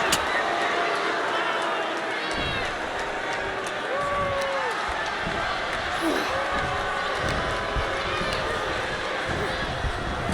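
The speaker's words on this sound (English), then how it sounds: "Just listen to this crowd." Arena crowd in the wrestling game WWE 2K26 roaring and cheering steadily in the background while a commentator talks over it, with a few thuds of ring action.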